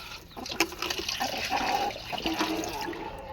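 Water splashes and trickles as it is poured for chickens, a steady liquid gush with a few small clinks, fairly close.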